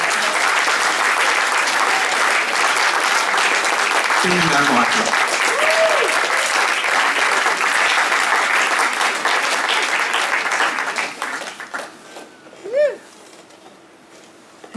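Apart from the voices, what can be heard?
audience applauding at a live concert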